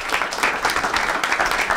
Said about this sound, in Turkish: Kocaman alkışla alalım mikrofonu.